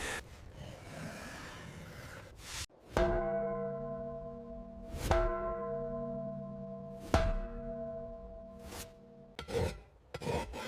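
A newly cast medieval bell is struck several times, each hit a sharp metallic clang that rings on with a long, slowly fading hum of overtones. Scraping and rasping noises come between and after the strikes.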